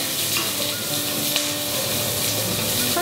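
Diced onion frying in heated cooking oil in a wok, a steady, loud, even sizzle and hiss that continues throughout with no talking.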